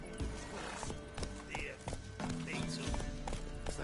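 Roach, a horse in The Witcher 3 video game, trots with clip-clopping hooves and lets out whinnying neighs, layered with game ambience and talk nearby.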